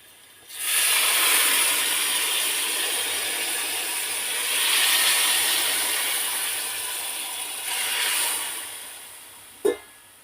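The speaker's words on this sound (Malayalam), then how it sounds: "കുറച്ച് വെള്ളം ഒഴിച്ച് ഇളക്കി കൊടുക്കാം." Water poured into a hot pan on a low flame hisses and sizzles, swelling and fading over several seconds as it is stirred, with a sharp tap near the end.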